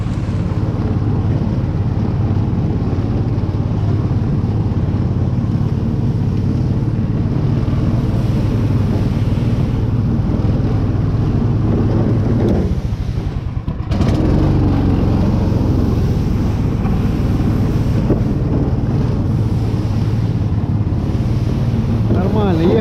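An Uragan all-terrain vehicle churns through spring meltwater, its engine a steady low rumble blended with sloshing water and wind buffeting the microphone, with one brief dip midway.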